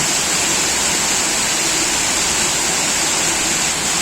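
Heavy rain suddenly pouring down in a steady, dense roar that holds loud and unbroken throughout, with no voices over it.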